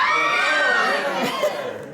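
An audience screams "aaagh" together in a loud, sustained group shout lasting about two seconds, tapering slightly at the end.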